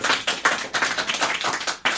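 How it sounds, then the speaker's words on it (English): Close, loud hand claps rhyme in quick bursts, a small group applauding Indiana Senior High students during a morning interview program, each sharp clap distinct rather than blended into a wash. "One more round of applause for Indiana Senior High."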